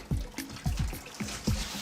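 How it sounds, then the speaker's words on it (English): Water trickling and splashing down from a leaking living-room ceiling, arriving in uneven bursts of drips and small gushes, close and fairly loud with no talking. "there's water pouring from my ceiling into my living room"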